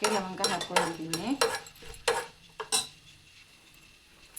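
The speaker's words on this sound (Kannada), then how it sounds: "ಇವಾಗ ಎಣ್ಣೆ ಬಿಸಿಯಾಗಿದೆ, ಇದಕ್ಕೆ ನಾನು ಚಕ್ಕೆ ಲವಂಗ ಹಾಕ್ಕೊಂಡಿದ್ದೀನಿ" A metal utensil clatters and scrapes against a pan as cinnamon and cloves go into hot oil, several sharp, close clinks over a faint sizzle that fades toward the end.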